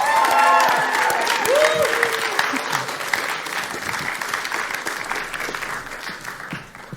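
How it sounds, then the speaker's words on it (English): An audience applauds the crew of a film called Belfast Beaner at a broadcast production showcase, a steady dense wash of clapping that gradually fades, with a few voices over it at the start. "Give them another round of applause, everyone."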